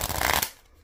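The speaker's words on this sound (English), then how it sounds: "I'm gonna give them their first shuffle real quick." A brief riffle shuffle of a plastic-feel vintage Jerry's Nugget playing card deck: a quick close burst of fluttering card clicks lasting under half a second, then near silence.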